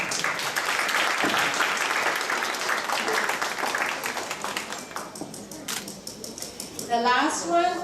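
An audience at a fundraising concert at World Vision headquarters in Monrovia breaks into dense, sustained applause that gradually thins and fades over several seconds, ending with a few scattered claps and sounds.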